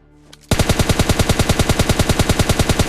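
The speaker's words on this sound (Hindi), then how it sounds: "अरे अरे जोरों शोरों से बमबारी हो रही है यहाँ तो" A loud burst of automatic gunfire in PUBG Mobile Lite starts after a brief quiet moment, its rapid even shots hammering steadily and close with no talk.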